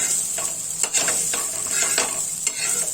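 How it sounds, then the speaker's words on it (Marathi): Peanuts and green chillies sizzle steadily in hot oil in a pan, a bright continuous hiss close up, with repeated scraping strokes of a spatula stirring every half second or so, no voices. "तेलामध्ये हे परतवून घ्यायचं आहे लो वरती आपल्याला व्यवस्थित हे करून घ्यायचं आहे"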